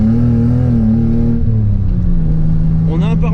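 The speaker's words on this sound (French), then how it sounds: "on a une ligne d'échappement qui est très bruyante" A Toyota Supra with a very loud exhaust line and a partly loose windscreen, droning steadily while driving, its engine note holding a low pitch and dipping slightly partway through.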